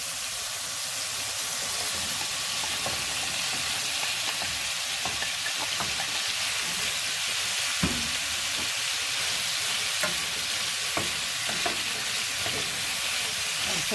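Green beans, pork belly and hon shimeji mushrooms sizzle loudly in a hot pan, a dense steady crackle with scattered clinks and scrapes of stirring throughout, no voices.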